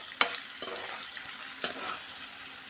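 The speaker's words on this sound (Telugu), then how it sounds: "ఆనియన్స్, పచ్చిమిర్చి ఒకసారి కలుపుకుందాం." Onions and green chilies sizzle quietly in a pan while a spoon stirs them, with a soft continuous hiss and two sharper clacks of utensil against metal.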